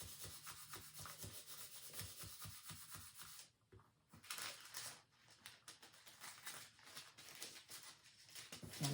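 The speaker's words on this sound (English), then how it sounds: "Add it and burnish." Gold leaf being burnished onto furniture with soft, repeated rubbing strokes, quiet and close, in an uneven rhythm with brief pauses.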